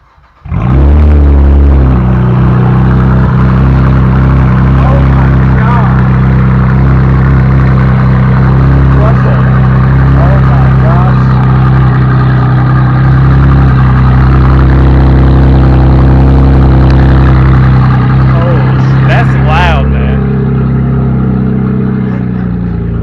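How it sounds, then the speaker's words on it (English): A Chevrolet Camaro fitted with high-flow downpipes cold-starts with a brief crank, then settles into a loud, steady idle with deep low rumble that stays constant for about twenty seconds, slight throttle variations near the end. "So I'm just gonna go into the car and start it."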